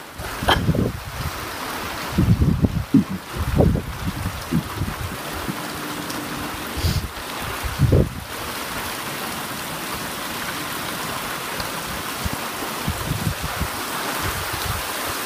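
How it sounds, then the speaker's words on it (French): Heavy rain pours steadily with gusts of wind during a violent, windy storm in Montoison, France, joined by several close thumps and knocks of impacts early on. "Waouh, quelle forte pluie!"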